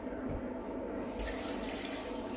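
Water runs steadily from a kitchen tap into a sink, a continuous hiss and splash that grows a little brighter partway through, with no voices.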